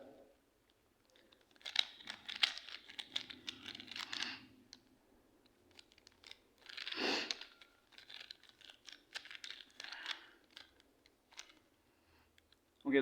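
A twisty Rubik's-style puzzle is turned in the hands, giving bursts of quick plastic clicks and rattling snaps spread irregularly through the scene, close and fairly quiet, with no talking.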